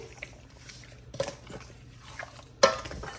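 A spoon working seasoning into raw pork chops, soft scraping and squelching with a few light clicks and one sharp knock of metal against the dish.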